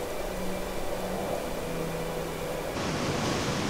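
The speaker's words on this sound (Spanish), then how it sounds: "Escucharas el mar." A continuous wash of broad surf noise rolls on without pause, like ocean waves heard close, with faint tonal hums underneath.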